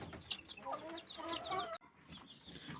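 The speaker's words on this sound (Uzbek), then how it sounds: "Bu yerda yana bitta kurk yotdi" A broody hen sitting on a clutch of thirteen eggs clucks in a series of close, soft murmuring clucks, followed by a brief break and then quieter background noise.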